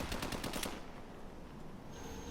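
MP443 Grach pistol fired in Call of Duty Advanced Warfare, a fast string of sharp, close shots in the first moments, then a fading tail and quiet game ambience.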